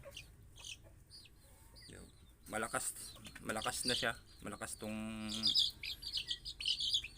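Chickens, including newly hatched chicks and BPR birds, cluck and chirp close by in a backyard coop, with bright peeping calls and a harsher squawk mixed under someone talking quietly.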